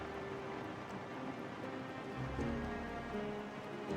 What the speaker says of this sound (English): Seems to be raining a lot.